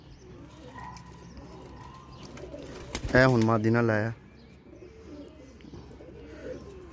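Pigeons from a breeding pair of show pigeons coo once in a short, loud burst lasting about a second, close by, while someone talks quietly before and after.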